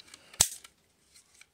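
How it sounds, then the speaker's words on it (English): An old, slightly stiff toy cap gun fires one sharp, loud snap, followed by a few faint mechanical clicks in a quiet room. "it's just a regular cap gun. A little stiff, but it still works."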